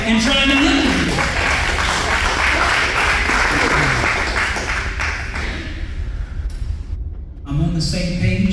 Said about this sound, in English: I agree with everyone that just clapped